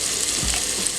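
Crimini mushrooms fry in hot oil in a pan, giving a steady close sizzle while a utensil stirs them with a brief scraping swish partway through.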